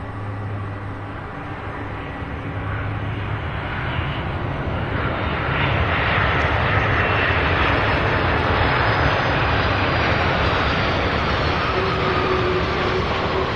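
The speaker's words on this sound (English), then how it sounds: "Beautiful landing by all three MD-11s." An MD-11 jet landing at Louisville airport, a broad, steady engine roar building gradually and holding loud near the end, with a faint whine over it and no talking.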